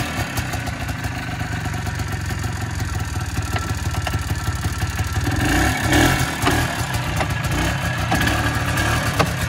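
A Polaris Trail Boss ATV with a clunking transmission runs up close, its engine droning and revving steadily while being driven, with a few heavier knocks rising out of the noise midway through.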